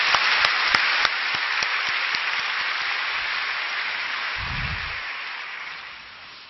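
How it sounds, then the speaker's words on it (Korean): A church congregation gives a sustained round of applause for a visiting music mission team, a dense, steady wash of many hands clapping throughout that tapers off toward the end. "귀한 팀에게 축복의 박수 한번 해주시기 바랍니다."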